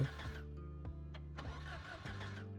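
A car engine cranks slowly in the cold in the video game Project Zomboid, a rhythmic, labored turnover of repeated starter pulses that struggles without catching. It is quiet and heard alone.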